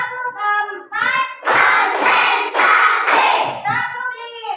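A class of fifth-grade primary pupils claps in unison, several sharp, evenly spaced rounds of group clapping, with children's chanting voices on either side.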